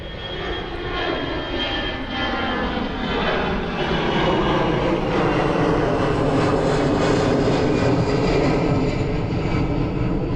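A Frontier airliner bound for Chicago Midway passes at Miami airport, its jet engine roar swelling steadily louder and staying close and sustained, with no voices.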